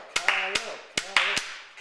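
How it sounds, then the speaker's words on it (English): Slow clapping, two pairs of sharp, close hand claps spaced apart, mixed with a voice speaking over them. "Are you slow clapping him?"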